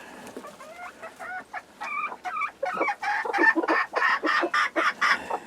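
Several hens in a coop cluck and chatter up close, a lively run of short, repeated clucks and squawky calls that grows busier and louder toward the end, with no people talking.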